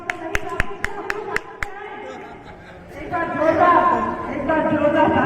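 Seven or so sharp, evenly spaced claps ring out at a BJP women's wing meeting in Dholpur, Rajasthan, then give way to someone speaking and murmuring chatter.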